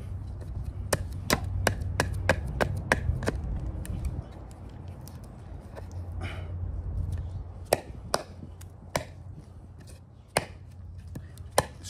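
An $18 Ozark Trail knife chopping into wood, giving sharp, close knocks in quick runs of repeated strikes, then scattered single chops over a low background rumble.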